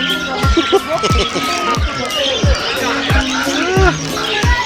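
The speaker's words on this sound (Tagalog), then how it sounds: "Kambing. Kambing!" Goat bleating repeatedly inside a busy pet store in Kuwait, loud wavering cries over a crowded background with people chattering nearby.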